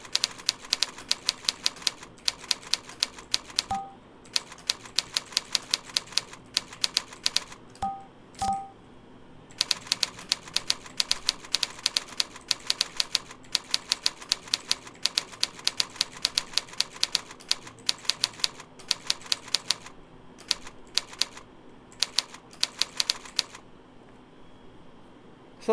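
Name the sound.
touch typing practice on a computer keyboard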